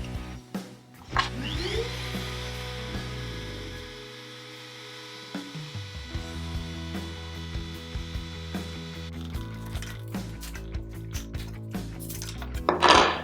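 Handheld router cutting a 3mm hinge mortise in wood, guided by a homemade jig: a sustained motor whine that drops out briefly midway, then resumes with scraping, clattering bursts as the bit works the wood.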